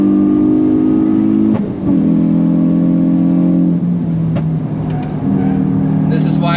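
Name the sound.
Hyundai car being driven hard on the Nürburgring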